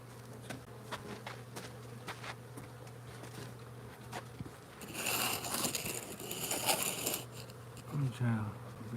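Honeybees buzzing around a hive, a continuous low hum with a burst of nearby crackling and rustling midway and a brief voice near the end.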